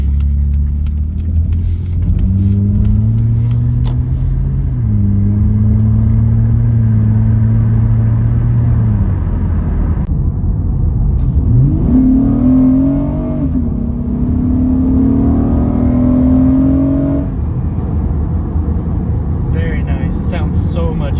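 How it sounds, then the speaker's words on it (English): An Acura MDX engine revs hard while driving, its loud VTEC intake note rising and falling in several pulls over a steady rumble of road noise, close and prominent. "You can see how loud that Vtec is."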